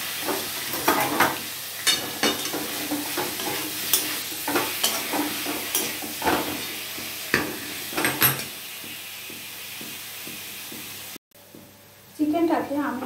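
Boneless chicken cooks in oil in a wok with a steady frying hiss, broken by repeated scraping and stirring strokes of a utensil; the hiss cuts out briefly near the end, then returns louder.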